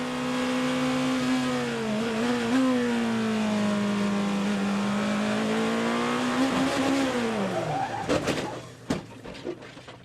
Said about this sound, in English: Have a listen to this. We go on board with Nick Tandy